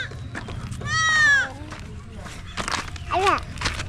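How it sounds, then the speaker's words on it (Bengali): Village goat walking away, its loud bleat rising once, with a second shorter bleat later, amid a child's and adults' chatter nearby. "ও ছাগল চলে যাচ্ছে"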